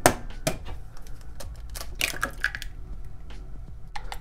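An egg is beaten lightly in a bowl for an oyakodon, producing rapid, close-up clicking and tapping in uneven bursts with no one speaking.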